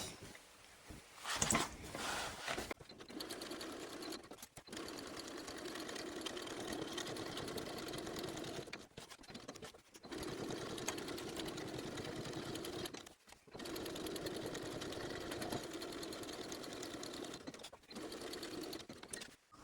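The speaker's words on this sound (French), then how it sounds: "il ne me reste plus qu'à faire la couture tout autour" A sewing machine stitching around a zipper hums fairly faintly in long steady runs broken by brief stops, with a few louder clicks and handling sounds near the start.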